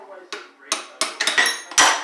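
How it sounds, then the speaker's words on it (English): Several sharp metallic hammer strikes on a fuel line fitting on a 1955 Chevy gasser, spaced unevenly across two seconds, loud and close with ringing overtones, the last blow heaviest. "Hey, we'll get the bigger old hammer."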